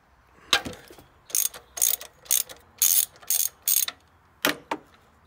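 A breaker bar ratchets on rusty gearbox nuts of a Ford Fiesta ST150, giving a run of about eight sharp, close clicking bursts spaced unevenly, with no talk.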